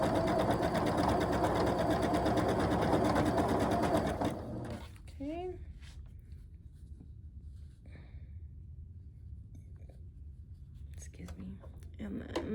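A sewing machine stitches continuously while chain piecing quilt block fabric, running loud and steady for about four seconds before stopping, followed by quieter handling sounds and soft movement.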